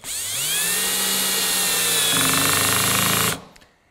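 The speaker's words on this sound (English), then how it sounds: "And that clutch just slipped to prevent me from over tightening this." A cordless drill drives a Phillips-head screw on clutch setting 4: a steady whining motor run, then a rapid ratcheting chatter as the clutch slips, ending abruptly, loud and close with no talk.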